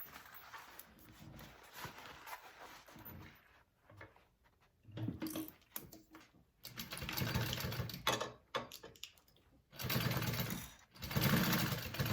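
Sewing machine stitching a fabric bag, topstitching seams in bursts of steady mechanical whirring broken by short pauses, close and fairly loud.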